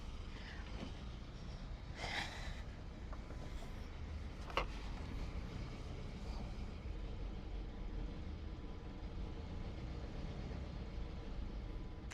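A boat engine runs at full throttle but struggles to hold about 1,000 RPM. It makes a faint, steady low rumble throughout, with a few brief mechanical clanks early on.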